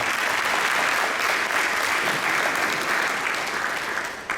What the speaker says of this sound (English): we give them a round of applause